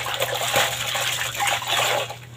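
Water pours and splashes steadily during hand rinsing of laundry, a continuous close gushing flow with small surges and no speech.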